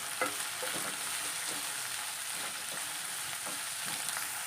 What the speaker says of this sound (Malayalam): സബോള ഇട്ട് കൊടുക്കാം നമ്മൾ രണ്ട് സബോള ഇട്ടിട്ടുണ്ട് ഇളക്കി കൊടുക്കാം